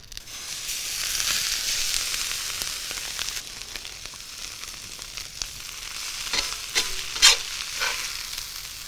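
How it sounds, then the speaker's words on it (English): Fennel charring in a Gozney Dome wood-fired oven, giving a steady broad sizzle and hiss with scattered crackles and a few sharper pops near the end, no talk. "When you char it, burn it a little bit, you know, it just mellows out"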